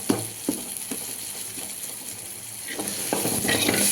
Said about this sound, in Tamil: நல்லா வதக்கணும் வெண்டைக்காய் குழம்புக்கு வெண்டைக்காய் புளிக்குழம்பு